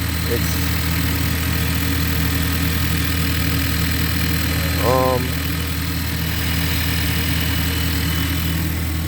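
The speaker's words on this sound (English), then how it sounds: "there is an exhaust leak under the car" A car sits with its engine idling steadily despite an exhaust leak underneath, a constant mid-low drone with a faint rhythmic ticking throughout and a brief chirp partway through.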